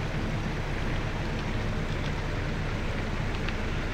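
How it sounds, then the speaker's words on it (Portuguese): Heavy rain pounds on a truck cab, a dense, steady hiss of drops drumming on metal and glass that stays uniform throughout with no voices. "Está chovendo muito."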